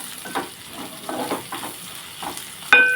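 Ivy gourd fry with coconut spice powder being stirred in a hot pan: scraping spoon strokes over a steady sizzle, ending with a sharp metallic clang.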